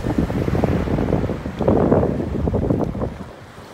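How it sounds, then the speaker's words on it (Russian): A light sea breeze off the Black Sea at Sochi on an April evening, buffeting the microphone with rumbling wind noise over soft, small waves washing in, continuous and fairly loud. "Дует небольшой ветер с моря. На море легкое волнение."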